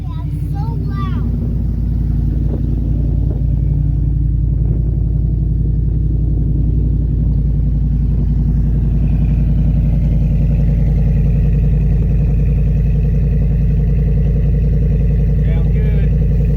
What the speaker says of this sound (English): has also made the exhaust note a little bit lower and a little bit louder.